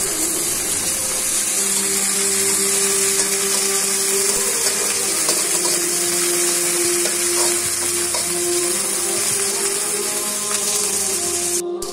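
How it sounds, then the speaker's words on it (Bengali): Garlic paste frying with onions in a pan for a sour leaf fish curry, stirred continuously; a close, steady sizzle with scraping and stirring strokes running throughout, no talk. "পেঁয়াজ ভাজা হলে রসুন বাটা ঢেলে নাড়তে থাকি"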